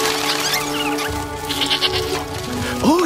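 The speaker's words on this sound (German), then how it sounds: "Und die Ziege melken." A goat bleats during milking in a 1998 period fantasy film scene, giving a close, wavering cry near the end over a steady musical background.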